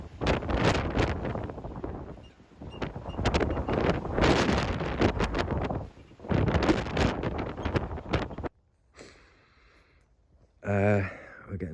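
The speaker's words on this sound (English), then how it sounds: "We get the wind funneling down here." Strong wind funneling between shipping containers, heard as loud buffeting gusts battering the microphone in long roaring bursts, dropping to near quiet in brief lulls before another short gust.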